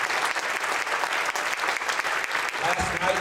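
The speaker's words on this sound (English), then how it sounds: "Let's give them a big round of applause" An audience at a school band concert breaks into a big round of applause for the band directors, a steady, fairly distant wash of many hands clapping that keeps going to the end.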